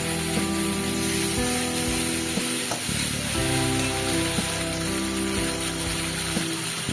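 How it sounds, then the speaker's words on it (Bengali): Rohu fish pieces sizzle and fry steadily in an oil-filled pan after salt, turmeric and a little water are added, a continuous loud crackling hiss with occasional stirring scrapes. "নুন হলুদ দিয়ে দিচ্ছি এখানে সামান্য জল দিয়ে আর একটু কষিয়ে নেবো"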